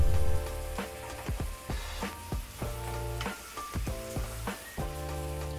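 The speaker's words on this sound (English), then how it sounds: "Now I'm gonna finish it off in a cast iron skillet." Korean short ribs sizzling in a cast iron skillet, a steady loud frying hiss close up, broken by a series of sharp crackles and pops, no talking.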